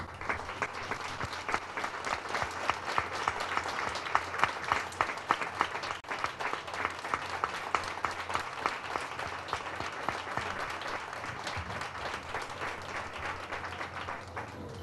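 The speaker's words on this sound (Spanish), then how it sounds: "Yo creo que merece un aplauso." Audience at a band concert in a village museum gives sustained applause, a dense crackle of many hands clapping with a loose pulsing rhythm that swells early and then gradually thins toward the end.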